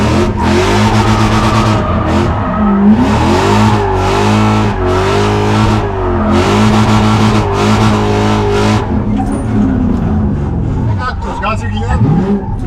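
A car revving hard while drifting, loud close engine roars rising and falling in long surges with tire noise, a voice talking briefly over it.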